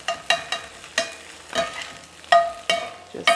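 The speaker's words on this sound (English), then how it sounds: "Just scramble that all up together." Food being scrambled in a hot frying pan for a low-carb breakfast, with a utensil clinking sharply against the pan in a loose rhythm over a soft, fading sizzle.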